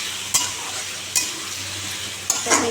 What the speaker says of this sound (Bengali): বসাচ্ছি লাউ আলুর তরকারি বসিয়ে দিয়েছি